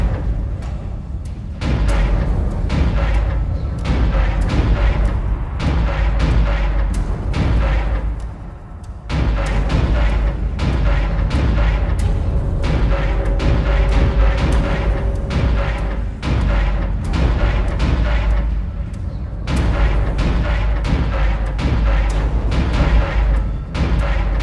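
Rapid, loud plasma cutter fire in the 2008 PC game Dead Space, with dense repeated shots and booming impacts over a steady combat din, broken by brief lulls.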